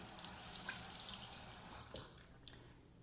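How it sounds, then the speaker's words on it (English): Water runs from a tap as a Lumispa facial device head is rinsed by hand, a faint close splashing trickle with small irregular spatters, quiet and without speech. "I'm going to rinse it in water, just using my hands."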